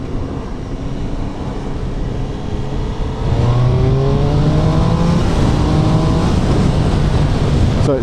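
A Triumph Trident 800 motorcycle engine revs up to about 6,000 RPM on a commute past a truck, a loud, steady engine drone whose pitch climbs as it accelerates, with constant wind and road roar around it.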